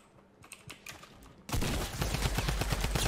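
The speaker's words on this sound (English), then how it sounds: "Oh no, he has a drum gun." A drum gun fires in the video game Fortnite, starting with faint distant rapid shots and then bursting into loud, close, sustained automatic fire.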